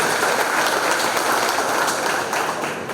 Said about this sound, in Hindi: एक बार जोर से ताली बजाइए